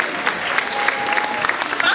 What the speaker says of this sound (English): Let's give him a round of applause as they make their way down.